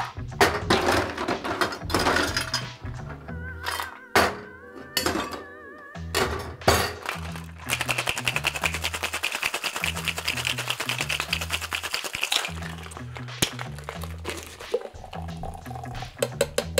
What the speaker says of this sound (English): 25 mils of simple syrup, 50 mils of London dry gin. Then we're going to shake those up.